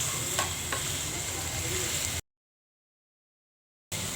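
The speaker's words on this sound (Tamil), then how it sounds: "இந்த எண்ணெயில் கொஞ்சம் நல்லா வதக்கிக்கிடலாம்." Gooseberries sautéing in hot oil in a pan for Indian-style pickle, a steady soft sizzle with a couple of light stirring scrapes, faint and continuous, broken by a short silent gap.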